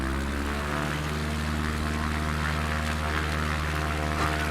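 In Microsoft Flight Simulator, an airplane taxis uphill with a steady, droning engine and propeller hum that stays close and even the whole time.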